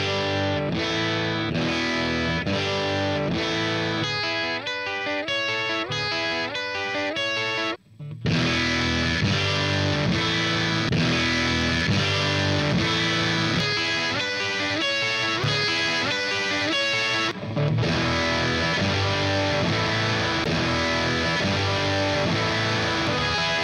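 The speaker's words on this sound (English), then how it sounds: "played it back through the amp on EL84 mode, then on 6V6 mode" Electric guitar riff looped through an Egnator Rebel 30 amp, heard first in EL84 mode and then in 6V6 mode: dense, driven, distorted chords and notes played continuously, with brief pauses between the passes.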